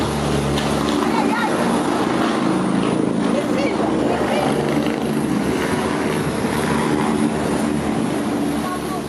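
A helicopter's steady, loud rotor and engine drone holds throughout during a rescue training exercise, with a heavy low rumble and some voices mixed faintly beneath it.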